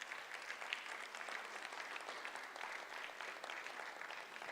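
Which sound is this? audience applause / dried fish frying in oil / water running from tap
audience applause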